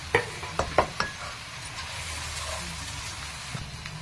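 Bitter gourd curry with chilli powder stirred in a pan, a few sharp scraping knocks early on over a soft, steady sizzle that carries on quietly to the end, no voices.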